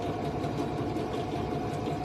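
A Singer Start 1304 sewing machine runs steadily while stitching fabric, a continuous close mechanical whir with fine rapid texture and no pauses.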